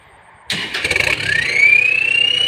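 A Kubota L5018 tractor engine with a newly installed turbo running at about 10–15 psi of boost fires up abruptly, then settles into a loud, throbbing idle as a bright turbo whine climbs steadily in pitch.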